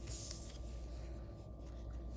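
A paper strip is cut for a handmade Stampin' Up! birthday card, giving a steady, close scraping rustle that runs unbroken for a couple of seconds.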